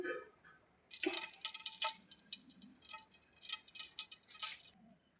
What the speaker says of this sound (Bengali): সর্ষের তেল দিয়ে দিচ্ছি।